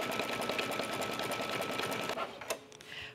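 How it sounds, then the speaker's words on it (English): A computerized embroidery machine stitches fabric and batting together while making a cork purse, its rapid needle hum steady and close, then pausing and stuttering near the end. "This step is now stitching the fabric and the batting down"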